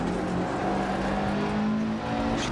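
A rally car in Dirt Rally 2.0 holds a steady engine drone in first gear through a corner on a Greek gravel stage, with the pitch barely changing and no talk.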